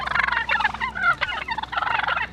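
Wild turkeys gobble in a rapid, burbling run of calls, two or three bursts close together, loud and near, with no voices.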